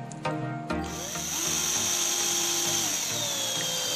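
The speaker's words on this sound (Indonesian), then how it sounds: "kita selesaikan dulu untuk pengeboran ini seperti ini" An electric drill bores into a metal TV backdrop bracket, with two short taps before the motor spins up into a steady, loud whine that holds for the rest of the clip, close and without speech.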